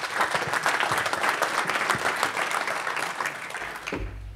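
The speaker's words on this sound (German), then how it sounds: "Applaus" A conference audience claps for several seconds at a bioeconomy industry event, lively and sustained, then tapers off sharply near the end as a low hum comes in.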